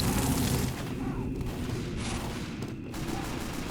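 In Team Fortress 2, a sentry gun fires continuously in a loud, dense stream of gunfire that fills the whole stretch, with heavy booming underneath and no pauses.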